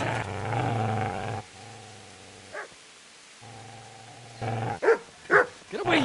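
A dog in Kingdom Come: Deliverance growls low and steadily at a man, then breaks into a few loud, sharp barks near the end, close and clear.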